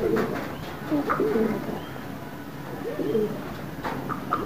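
Pigeons in Khanpur, Rahim Yar Khan coo softly and repeatedly, several low rolling calls close by over a steady outdoor background murmur.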